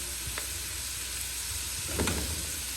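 Grated carrots fry in oil for beef pilau, giving a steady close sizzle and hiss with a few soft stirring scrapes.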